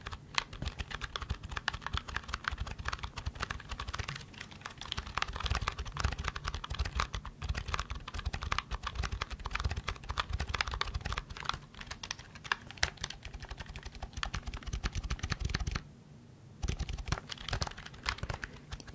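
Continuous rapid clicking of keys on a computer keyboard, close up and fairly steady, with a brief pause near the end before the typing resumes.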